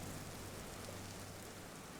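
Steady rain in the video game Vintage Story, a dense, even hiss of falling drops with no talk.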